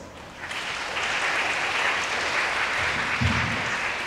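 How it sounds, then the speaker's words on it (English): Sustained crowd applause at the ADF2023 conference welcome addresses, rising within the first half second into a steady, full wash of clapping that holds evenly to the end, with no voices over it. "Please join me in giving her a warm round of applause."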